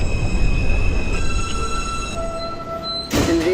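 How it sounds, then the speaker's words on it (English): An R160B Alstom subway train on the G line in the OpenBVE simulator game runs with a loud rumble, sustained high tonal whines and squeals, and a sharp burst near the end. "this is a Nassau Avenue-bound G local 42 train"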